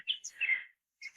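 A small bird outdoors in a garden gives a few quick, bright chirps close by, then a short pause and one more brief chirp, with no other sound around.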